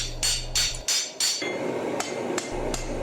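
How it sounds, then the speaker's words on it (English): A smith hammers katana bevels on a homemade bevel-forming spring tool, giving a run of loud ringing metallic strikes: four fast blows, then slower spaced hits over a steady background hum. "I fine-tune them using my homemade bevel-forming spring instrument"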